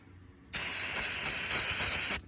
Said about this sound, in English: take your handy dandy brake clean, and I just hosed it down